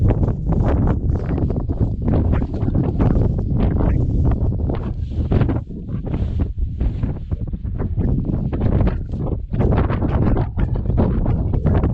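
Wind roars across a mountainside in Snowdonia in winter snow, a constant rough buffeting that batters the microphone in gusts, loud and unbroken for the whole stretch.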